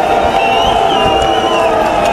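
A dense crowd on the Promenade des Anglais in Nice jeers Prime Minister Valls, a loud, steady mass of shouting voices with whistles rising through it.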